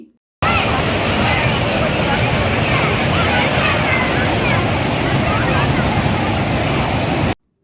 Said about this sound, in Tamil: பாருங்கள் தண்ணி எப்படி கொட்டுதுன்னு